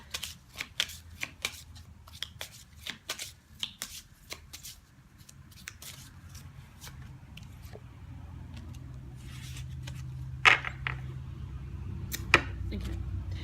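A deck of tarot cards being shuffled during a card reading, with repeated crisp riffling bursts near the microphone and a low steady hum underneath, growing slightly busier toward the end.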